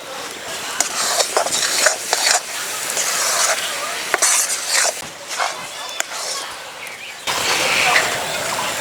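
A spoon stirring fried spice mix into mango pickle in a pan, with repeated scraping clinks against the metal over a low sizzle, while a voice speaks intermittently in the background.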